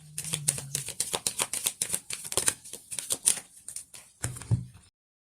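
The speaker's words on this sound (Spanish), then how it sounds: "Ahora vamos a barajar las cartas que representan el potencial más alto" Tarot cards shuffled by hand in a quick run of crisp riffling flicks and soft slaps, close and fairly quiet, ending in a short pause after a final burst.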